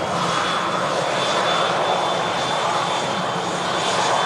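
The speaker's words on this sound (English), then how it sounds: "Corendon is just about to touch down from Antalya." A Corendon airliner arriving from Antalya roars steadily as it comes in to land at Manchester Airport, a loud, continuous broadband engine rumble with a faint whine on top and no voices.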